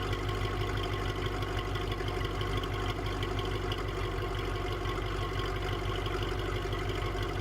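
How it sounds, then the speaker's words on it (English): A Mercedes-Benz E55 AMG engine idles steadily with a deep, rough rumble, close and continuous throughout, with no revving. "You can hear this idle sounds crazy"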